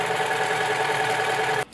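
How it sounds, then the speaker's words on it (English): Sewing machine stitching elastic onto fabric, a steady close whirring drone running continuously before cutting off abruptly near the end, followed by a faint click. "I'm going to stretch and pull, and I'm going to stitch to the next mark"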